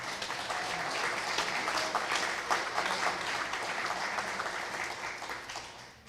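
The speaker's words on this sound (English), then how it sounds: "So let's give everyone one last round of applause" A crowd at a Nashville Arbor Day awards ceremony applauds steadily for about six seconds, a dense, even wash of many hands clapping that tapers slightly at the end.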